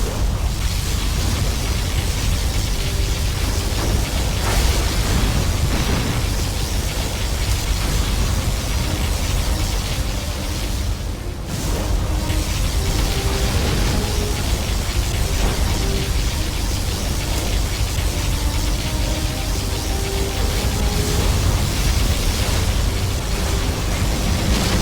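Particle cannon blasts in the Command & Conquer Generals Zero Hour strategy game rage as a continuous, loud, roaring wall of explosive noise with layered booms, sustained for the whole stretch with only a momentary dip midway.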